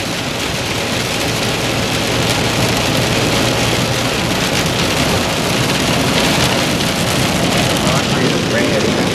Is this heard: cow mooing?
no